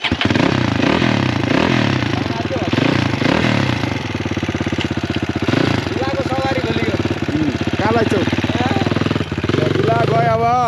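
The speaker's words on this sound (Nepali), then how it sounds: "यो बाइक हो हाम्रो" A CX250 motorcycle engine running nearby with a loud, pulsing throaty idle and occasional revving, while people talk over it throughout.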